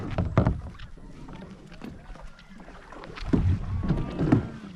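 A kayak moves across water in Suphan Buri province, Thailand, with soft splashing and paddle strokes, wind buffeting the microphone in irregular gusts.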